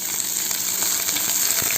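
Finely chopped small onions sizzle in hot oil with mustard seeds and curry leaves, a bright steady frying hiss with light crackles close by.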